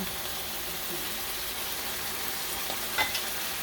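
Pork liver marinated in vinegar, pepper and garlic sizzles softly in a pan while being stirred, a low steady frying hiss with a couple of brief scraping strokes near the end and no talking.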